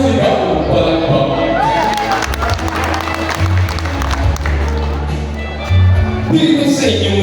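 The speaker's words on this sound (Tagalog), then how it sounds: "hiling ko kung sana'y masigaw palakpak" An audience at a Flores de Mayo 2025 community tribute claps and cheers, a dense wash of clapping with crowd noise that stays fairly loud across the whole stretch.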